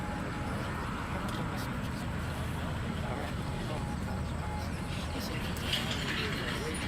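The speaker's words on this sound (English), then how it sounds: "Waiting for that noisy truck to finish passing." A noisy truck passes near an outdoor beep baseball field, a low, steady rumble that holds throughout under faint background voices.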